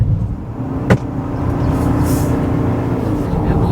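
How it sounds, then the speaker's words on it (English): A 2026 Ford Maverick Hybrid AWD pickup drives steadily through a series of bends with a constant engine and road hum, close and fairly loud, with a brief tonal whine partway through. "let's take it through a series of bends and see how it steers."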